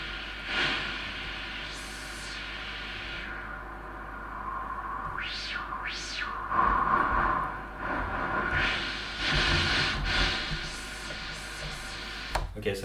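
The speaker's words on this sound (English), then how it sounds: "that's the noise on this synthesizer, which you can mix with any of the waves" Noise generator on an Arturia MiniBrute 2 synthesizer gives a continuous hiss whose tone is swept up and down in filtered whooshes, moderately loud and alone.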